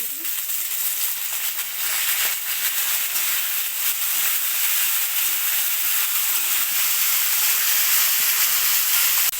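Soaked chickpeas and chopped tomato sizzle steadily in hot oil, a continuous bright hiss of frying that holds at an even level without voices.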